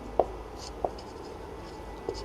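A pen writes on paper while a maths problem is worked out, giving a soft steady scratching with a few light taps, near and quiet, and no speech.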